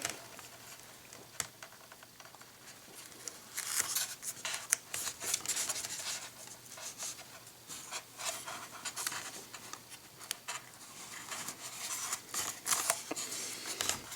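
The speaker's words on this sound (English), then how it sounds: "I'm going to take a pair of scissors and trim off the excess" Close scissors snip and rub through painter's tape, a run of short crisp cuts and rustling with no talking.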